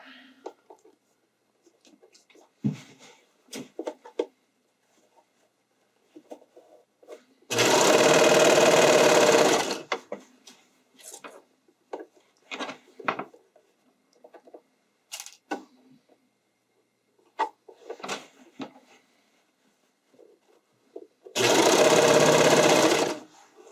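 A sewing machine stitches the layers of a skating dress in two loud, even bursts of rapid whirring, each about two seconds long, separated by quiet stretches of speech and handling sounds.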